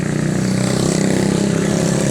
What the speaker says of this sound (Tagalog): Wait lang ha, may motor.